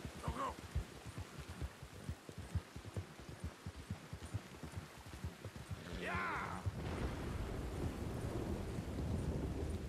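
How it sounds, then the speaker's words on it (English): Rain and thunder in the video game Red Dead Redemption 2: deep rumbling thunder pulses give way to a steady, dense downpour hiss that swells and continues to the end. "That's one hell of a rain."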